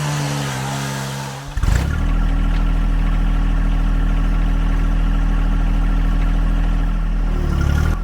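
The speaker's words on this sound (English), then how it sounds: "At this point I'm just spinning my tires in some pretty slick mud" A John Deere 1025R compact tractor spins its tires in slick mud, its engine surging to a loud, sustained revving roar after a short lower-pitched start and holding steady until it eases near the end.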